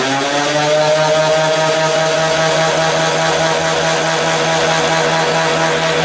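A homemade turboramjet engine's front compressor runs at a steady high-pitched whine with a strong buzzing hum, loud and unchanging from start to finish.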